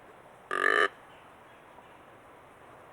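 A hand-cupped Mad Buck growl grunt call mimics a whitetail buck, sounding one short, buzzy grunt of about a third of a second, loud and close, then quiet until another grunt begins at the very end.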